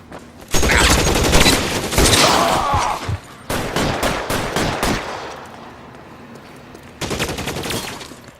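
Gunfire in an L.A. Noire shootout: loud, close volleys of overlapping shots in several bursts, with quieter gaps between them and a final burst near the end.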